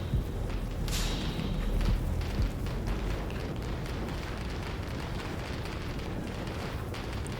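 A Soviet 45mm M-37 anti-tank gun from 1937 fires at tanks in the game Gates of Hell: Ostfront, a sharp blast near the one-second mark followed by a rumbling low wash and scattered thuds.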